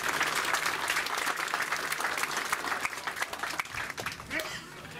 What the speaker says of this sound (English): let's give Kevin a big round of applause